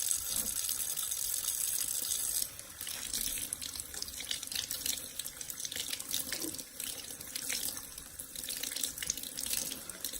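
Water runs steadily from a tap into a sink while a makeup brush is washed out with soap and a thumb, a continuous close splashing gush with slight shifts in flow and no talking.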